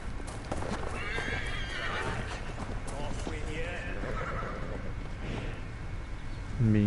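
A horse in the video game Assassin's Creed Valhalla whinnies and neighs in several calls while hooves clip-clop steadily underneath, close and clear.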